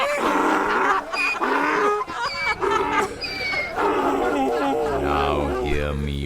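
A donkey's braying in a radio drama rises through harsh, rhythmic honking calls layered over a staged scene, ending in a low, droning bray.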